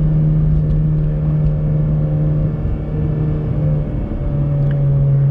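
Steady low engine rumble from a Honda Civic Si idling or cruising in everyday traffic, a constant droning hum with slight shifts in pitch, close and loud with no talking.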